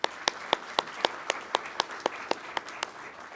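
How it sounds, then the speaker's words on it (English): Sparse, evenly spaced claps ring out one by one at a pilot training graduation ceremony, sharp individual hits about four per second, fairly faint against a quiet room. "So a round of applause for our support."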